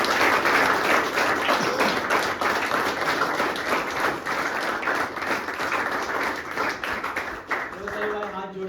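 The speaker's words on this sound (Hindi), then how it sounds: "एक बार जोरदार ताली हो जाए दिवाकर के लिए" Loud, sustained applause from a group at an addiction recovery center in Dehradun, honoring Diwakar's one year of sobriety; dense clapping continues steadily throughout, with a voice beginning to speak near the end.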